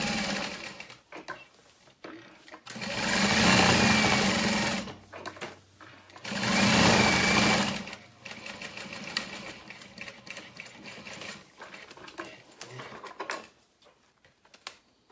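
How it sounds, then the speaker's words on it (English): Two loud sewing machine runs top stitch a leather clutch wallet around its U-shaped edge, each burst lasting a few seconds, with quieter handling and fabric shuffling in between and no talking. "what you can do to hide the raw edges is just top stitch all the way around the U shape"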